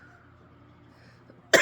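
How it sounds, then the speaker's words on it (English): A single sharp cough bursts out close and loud at the very end, after near silence with a faint background hum. "I've been coughing so much lately."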